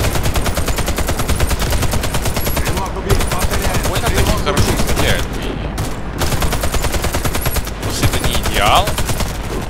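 Turret gunfire in the video game Warface, loud and close, rattling in rapid sustained bursts with a few short gaps, while a voice speaks faintly underneath.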